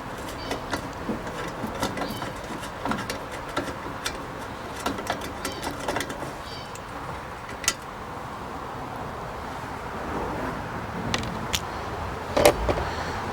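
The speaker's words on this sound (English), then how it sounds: "Get these 2 screws out of here" A screwdriver working two screws out of the chassis of a 13-inch Wells Gardner K-4800 arcade monitor, with steady close mechanical rattling, clicks and scraping throughout and a louder clunk near the end.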